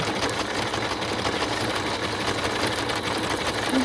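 Sewing machine running steadily, stitching a zigzag over the edges of fabric scrap strips; a close, continuous mechanical whir with no pauses and no talk.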